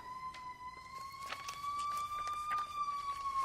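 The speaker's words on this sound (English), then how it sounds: "I'll just wait for the siren to pass before I move on." A siren heard from outside during a Hillsdale public meeting, its steady wailing tone holding and slowly rising and falling over several seconds, moderately distant and continuous with faint room noise beneath.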